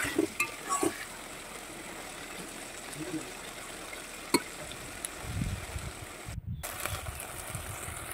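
Spices, turmeric and salt are stir-fried in a pan for a river eel (baim) fish curry, making a faint, steady sizzle with occasional scraping clinks of the spatula, while someone talks over it.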